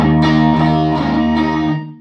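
A single sustained electric guitar chord rings out through a TopHat Rialto Reverb 1x12 combo amp, loud and close, with reverb trailing off at the end.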